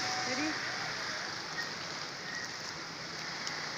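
Steady rain hisses across the whole stretch, with a faint voice briefly rising above the patter at the start.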